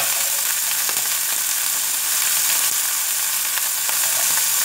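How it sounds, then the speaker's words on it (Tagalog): Onions frying in a pan for a green beans and meatball dish, a steady dense sizzle with faint crackles running throughout, close and fairly loud with no talking. "Fry na siya."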